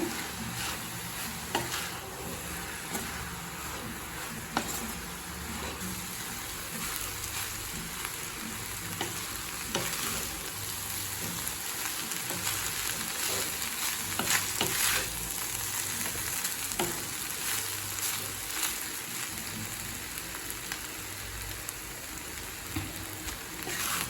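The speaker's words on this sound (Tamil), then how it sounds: "இப்போ எல்லாத்தையும் சேர்த்துட்டு நல்லா மிக்ஸ் பண்ணிக்கலாங்க." Mushroom fried rice is stirred in a hot pan. A dense, steady sizzle like rain runs throughout, with scraping and tossing sounds from the utensil. It is close and continuous, with no voices.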